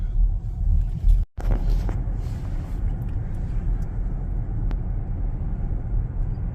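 A Toyota Mirai hydrogen fuel cell car, built on a Lexus chassis, is driven along while a low, even road rumble fills the cabin. There is a brief sudden dropout near the start, then a steady drone.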